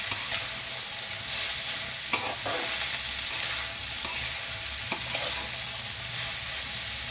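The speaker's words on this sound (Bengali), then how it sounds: "খুব ভালো করে হাই ফ্লেমে ভাজছি আমি" Maggi noodles with egg and vegetables fry on high flame in a steady, loud sizzle, broken by a few sharp scrapes and knocks of stirring. No voices.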